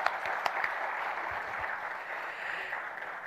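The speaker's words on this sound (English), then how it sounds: "I think those portraits deserve a huge round of applause." A wedding photography awards audience applauds, soft steady clapping from a crowd heard at some distance, with a few sharper individual claps standing out early on.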